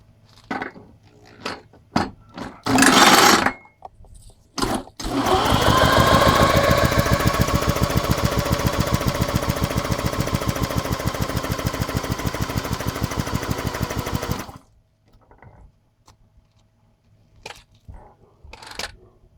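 A lawn mower engine with very low compression is cranked over for about ten seconds, giving a fast, even, chugging rhythm of pulses that turns over easily without firing, close by, with scattered handling clicks before and after.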